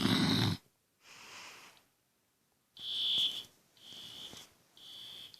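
Fire alarm at night sounding in repeated shrill electronic bursts, each a second or so long with silent gaps between, fairly faint and heard from a distance.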